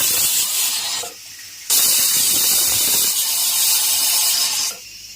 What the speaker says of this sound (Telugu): కుక్కర్ 3 విజిల్స్ వచ్చిన తర్వాత